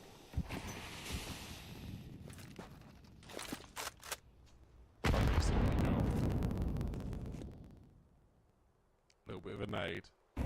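A grenade blast in the Counter-Strike video game: a loud, sudden boom that hangs and then fades over a few seconds, surrounded by clicks and other game noise, with talk running through the clip.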